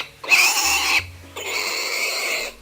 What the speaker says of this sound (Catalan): S'escarrassà en xisclar el matrimoni porc